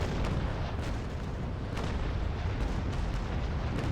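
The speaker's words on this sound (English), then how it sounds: "my cannons have reloaded, meaning that I can give this guy one more broadside" Ship cannons fire a broadside in the Naval Action naval combat game: a dense, continuous roar of booming blasts and crackling debris, loud and sustained, with sharper bursts punching through at intervals.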